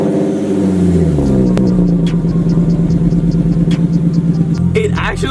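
A Nissan car engine runs through a cheap homemade exhaust modification, giving a throbbing, pulsing drone that climbs in pitch early on and then settles into a steady, slightly uneven burble with brief clicks, loud and close.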